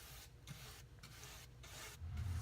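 A paintbrush strokes paint onto a wooden display box to age it, giving soft, repeated rubbing sweeps in a steady rhythm, close and quiet, with no talking.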